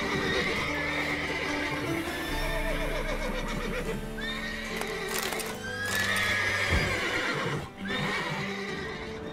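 Several horses neigh and whinny repeatedly, overlapping one another, with hooves clip-clopping beneath amid a busy, cluttered soundscape, from the video game The Witcher 3: Wild Hunt.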